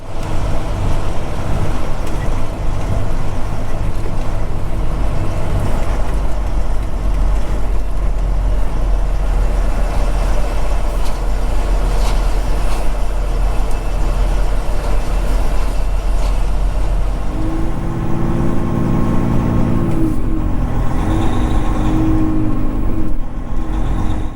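A road train truck rolls slowly into a yard to park, a loud continuous diesel rumble heard from inside the cab, with low engine tones shifting toward the end.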